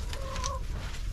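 A hen gives a short pair of soft clucks close by, a brief throaty call over a low background rumble.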